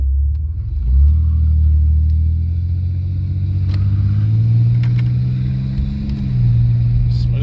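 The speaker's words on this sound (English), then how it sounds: "Engine sounds healthy. About to take it for a test drive." A 1989 Chevy Celebrity's engine runs steadily with a low rumble on a test drive, rising and falling as it accelerates and shifts while driving.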